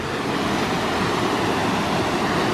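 Water rushes steadily at the Sinks on Little River Road in the Smokies, a dense, unbroken roar that stays loud and constant throughout.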